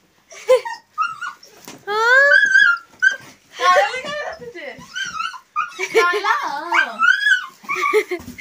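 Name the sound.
dog whimpering and barking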